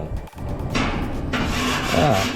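Spatula scraping cooked yellowfin tuna off a cooking surface, a few short rasping strokes heard up close with no talk.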